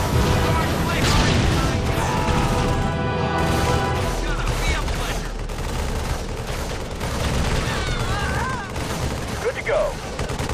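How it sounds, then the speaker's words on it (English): Grenade blasts and rapid gunfire from battle in the Xbox 360 strategy game Halo Wars, a dense, loud barrage of shots and booms throughout, with game voices calling out over the combat. "Grenade out."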